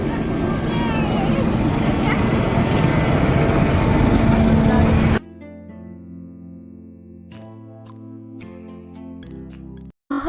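The Bhakra Dam heritage train rolls along with a steady, loud, broadband rumble for about five seconds. The noise then drops to a much quieter interior hum with faint tones and scattered clicks.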